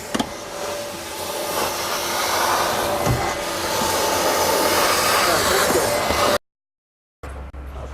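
A floor cleaning machine runs its self-cleaning cassette cycle with a loud, steady whooshing roar of motor and suction, close by. It cuts off abruptly, then a softer hum resumes.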